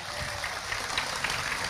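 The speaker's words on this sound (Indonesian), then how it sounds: "Tepuk tangan dulu dong." Applause from a lecture audience: a short, broadband wash of clapping at steady moderate loudness with no talk over it.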